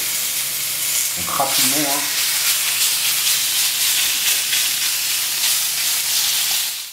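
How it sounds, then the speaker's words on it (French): Beef sears in a non-stick pan with a loud, close, continuous sizzle and hiss that carries through, and a brief voice speaks over it near the start. "Et on va faire revenir le bœuf."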